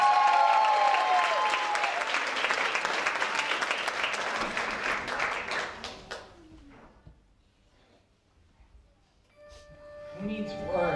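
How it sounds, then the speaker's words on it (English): Applause fills the first six seconds for 10-year-old Megan at a dance competition final in South Shields, loud and dense, then fades away, with a few faint tones returning near the end. "Big round of applause, come on."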